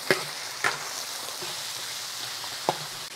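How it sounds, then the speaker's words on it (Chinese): Goose meat stir-frying in a large wok with oil and ginger slices, a dense continuous sizzle near the mic punctuated by three sharp clanks of the spatula against the metal. "开始炒大鹅"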